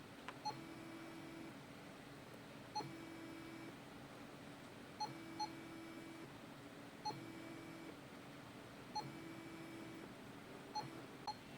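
A Fresenius Kabi Agilia SP syringe pump beeps steadily during a held bolus, short electronic tones repeating roughly every two seconds at a soft, even level over a faint hum.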